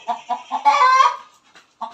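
Chickens at a rural home in Kerala give a few short close clucks, then a longer drawn-out squawk, and one more cluck after a brief pause.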